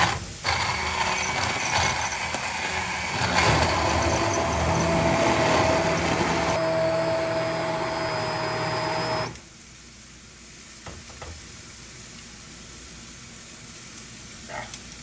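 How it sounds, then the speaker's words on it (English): An immersion blender blending tomato soup at low speed, a loud continuous whirring drone with a mechanical whine that runs steadily, then cuts off abruptly and leaves quieter kitchen clatter. "the immersion blender."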